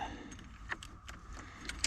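Keys for a 1986 Pontiac Fiero that sat in a field for 27 years jangle and clink in short metallic bursts, close by, over a quiet low background.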